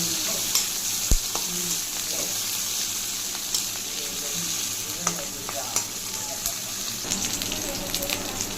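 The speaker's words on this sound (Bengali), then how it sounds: "পেঁয়াজ আর পাঁচ করুন একসাথে ভালো করে একটু ভেজে নেবো" Onions and panch phoron fry together in hot oil, a continuous close crackling sizzle broken by frequent stirring clatters and taps of a spoon against the pan.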